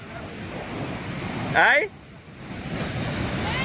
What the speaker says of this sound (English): waves slam hard against the rocks